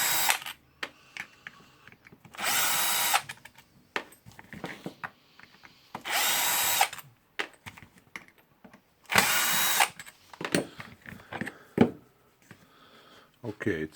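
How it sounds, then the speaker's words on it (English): Power screwdriver backing out the housing screws on a Makita 9558HN 125 mm angle grinder, three separate loud whirring bursts of two to three seconds each, close by, with clicks and handling noise of parts between them. "I will unscrew that 4 screws."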